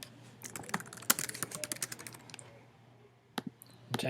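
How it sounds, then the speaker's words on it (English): Typing on a computer keyboard: quick, irregular runs of close keystroke clicks for about two seconds, a short lull, then a few more scattered taps. "Type in book review by Mr. Anand"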